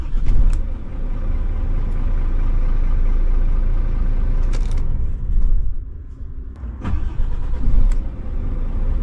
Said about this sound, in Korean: 그러면 이제 시동을 걸어 볼게요.